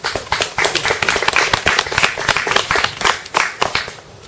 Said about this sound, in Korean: 이 부분에서는 박수가 필요한 것 같습니다